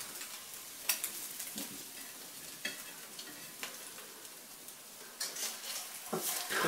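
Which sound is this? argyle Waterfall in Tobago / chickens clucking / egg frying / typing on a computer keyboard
egg frying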